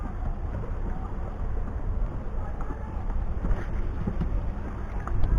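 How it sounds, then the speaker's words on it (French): Fishing boat engine heading out of a port on a deep-sea fishing outing, a steady low rumble mixed with wind buffeting the microphone and water noise throughout. "Tu peux baisser un peu le moteur peut-être, Jean, non?"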